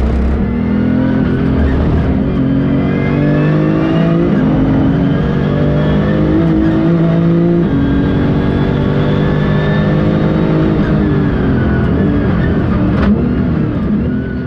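A Porsche GT2 RS Clubsport pulls hard on a race circuit at speeds near 280 km/h, its engine a loud, continuous close-up roar with rising and falling pitch through the gears.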